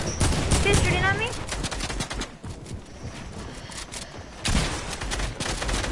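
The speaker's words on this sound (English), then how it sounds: "Kids shooting at me?" Rapid bursts of gunfire from enemy players in an arena trios shooter match, dense crackling volleys that rise and fall, close and loud, with brief lulls between bursts.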